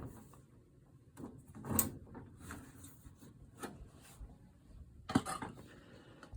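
A metal furnace access door is handled and opened, giving several soft scrapes, rubs and sharp clicks spaced over a few seconds, quiet and close in an otherwise still room.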